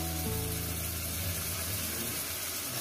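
Spice paste water poured into a hot pan of fried ingredients for Bengali chicken kosha sizzles in a steady, hissing fry, close and continuous throughout, with no voices.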